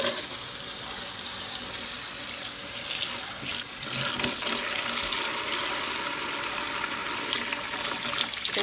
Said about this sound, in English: I'm just going to add a bunch of water in here.